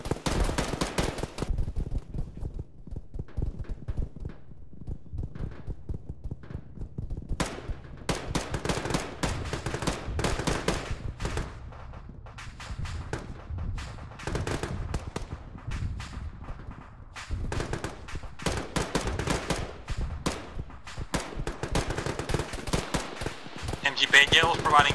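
Squad fire support in the military shooter Arma: dense, continuous rifle and machine-gun fire, loud and close, with bursts crowding one after another and short lulls, while voices talk over the shooting.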